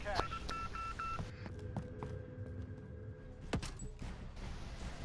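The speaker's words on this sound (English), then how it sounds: "at the back of the room you'll hear the next phone" A phone rings inside Call of Duty Warzone during the solo Bunker 11 Easter egg: repeated electronic tones in the first second, then scattered thuds and taps of in-game movement and a sharp click near the end.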